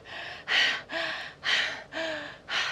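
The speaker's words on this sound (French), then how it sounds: "Je respire comme ça parce que je suis essoufflée, c'est normal." Heavy, rhythmic panting from a woman out of breath after a HIIT workout, about five loud breaths in under three seconds, close to the mic with no talking.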